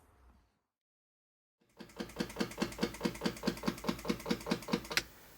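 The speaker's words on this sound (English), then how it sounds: "I'm going to shut the fuel pump off so we don't have to listen to it." Fuel pump of a 1967 Ferrari 275 GTB/4 ticking after a short silence, an even rapid train of mechanical clicks about four per second, close and clear, alone with no talk.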